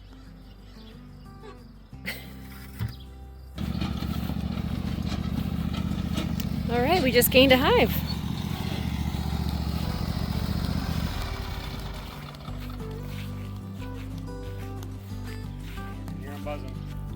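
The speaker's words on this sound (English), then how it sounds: "You just drive your lawnmower back home now." A lawnmower engine running after a bee swarm recovery, a low steady motor drone that starts abruptly, holds for several seconds and then fades, with people talking over it and a brief whistle-like tone mid-way.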